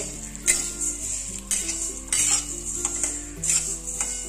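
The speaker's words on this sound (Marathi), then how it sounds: "हे बघा, मस्त भाजतायत धने।" Coriander seeds roast in a little oil in a pan as a spoon keeps stirring, bringing repeated metallic scrapes and clinks over a soft, steady sizzle, heard up close with no talking.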